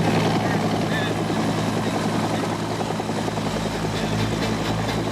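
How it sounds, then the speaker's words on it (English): A police helicopter flies in Southern California, its rotor and turbine making a loud, constant droning thrum that stays steady throughout, with a voice talking over it. "Helicopters flown by fire departments, police and sheriff's departments, and scores of other agencies save lives"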